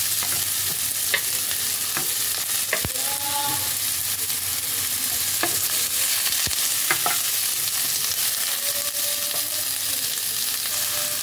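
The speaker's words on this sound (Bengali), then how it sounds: "সবজিগুলো হালকা সাঁতলে নিয়েছি।" Vegetables sautéing in a pan for biulir dal, a steady close sizzle with scattered stirring scrapes and clinks throughout, no talk.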